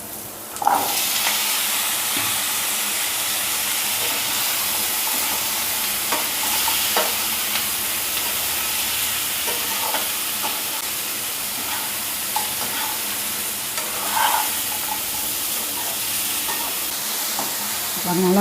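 Yellow pumpkin pieces stir-fried with softened onions in a pan for a Tamil pumpkin poriyal, giving a steady sizzle with scraping stirs throughout, close and continuous, with no talking.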